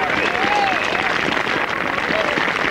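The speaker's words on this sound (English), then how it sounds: "A bit of clapping." Golf spectators at a 1988 matchplay quarter-final clap after a three-wood shot, a steady wash of applause throughout with crowd voices mixed in.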